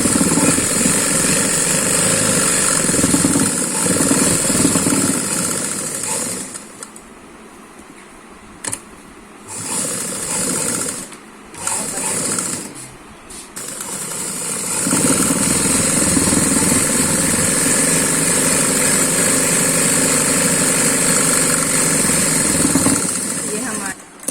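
A sewing machine stitching the hem of an umbrella frock, a loud close motor whir that runs continuously, breaks into a few short stop-start bursts midway, then resumes steadily to the end.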